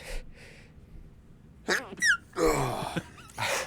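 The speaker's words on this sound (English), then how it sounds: "I had to sneeze. I couldn't hold it back." A sharp, close sneeze bursts out, followed by a breathy exhale and a short gasp, with quieter breathy sounds before it.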